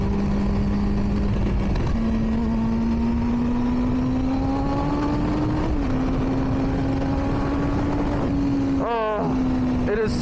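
A 2005 Triumph Daytona motorcycle engine hums at a steady, slowly rising pitch, shifting once midway, heard fairly close and continuous with a brief rev near the end.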